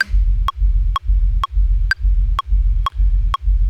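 Sharp, evenly spaced metronome clicks, about two per second, sit over a thumping low bass pulse that repeats with each beat.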